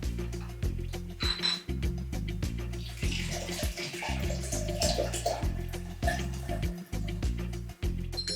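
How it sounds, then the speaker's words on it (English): Vodka poured from a bottle over lemon peels for limoncello, a close, gurgling stream of liquid with glugging pulses as the bottle vents, running steadily for several seconds. "And now I'm going to put vodka."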